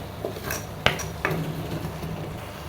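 Drumstick leaves being stirred in a pan with a metal utensil, a few sharp clanks and scrapes against the pan over quiet background, with no talking.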